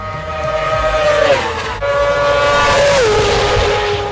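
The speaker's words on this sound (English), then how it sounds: "They run standard 600cc 4-stroke bike engines and racing slicks." Isle of Man TT racing sidecars with standard 600cc four-stroke bike engines scream past in two quick passes. Each high, loud engine note drops sharply in pitch as it goes by.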